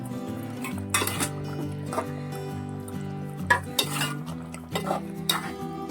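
Fried dry fish pieces tipped into raw banana curry in a pot, with clattering spoon-on-metal stirs and clinks over a soft bed of background music, several distinct knocks spread through.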